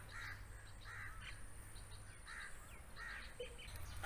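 Several crows caw in repeated harsh calls, somewhat distant, spaced across a few seconds over a low background hum.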